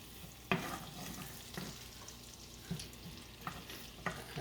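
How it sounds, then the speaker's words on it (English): Sliced onions for garlic shrimp sautéing in a pan, a soft steady sizzle broken by several sharp scraping stir strokes spaced about a second apart, close and moderately quiet with no talk. "On top of that, I'm going to add my sliced onions, and we'll saute this around a little bit."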